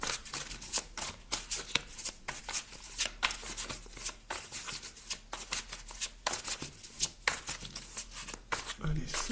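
Tarot cards are drawn and handled, producing repeated crisp riffling and slapping card sounds that come in quick bursts under someone speaking steadily throughout.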